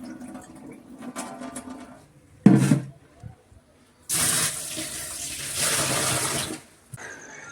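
Tap water runs while urad dal and chana dal are washed in a home kitchen, a steady broadband rush in two stretches with a brief splashy burst between, fairly close and with no talk over it.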